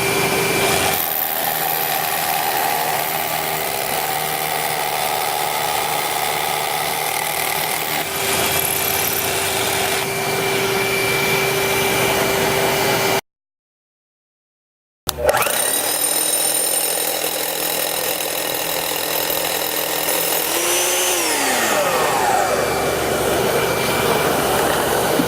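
DeWALT DWV012 10-gallon dust extractor vacuum running steadily with a continuous whining motor drone, briefly cut off mid-clip and then resuming with a pitch sweep as suction seals.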